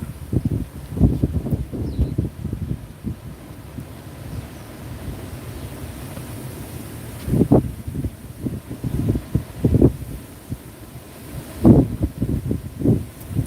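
Outdoor wind gusts in stormy weather buffet the microphone in irregular low rumbling bursts, swelling and fading several times, with rustling in between and no clear voices.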